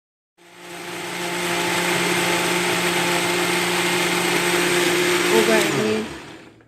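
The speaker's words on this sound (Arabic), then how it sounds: "ونطحنه في الخلاط الكهربائي" An electric blender blending raspberries with sugar and cold water whirs steadily at high speed for several seconds, its motor pitch dipping slightly before it winds down and stops.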